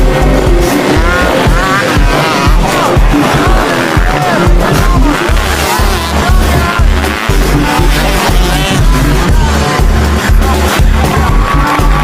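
Race cars roar loudly and continuously through an 8-lap race, engines revving and shifting with occasional tire squeal, close and dense, with a faint crowd underneath.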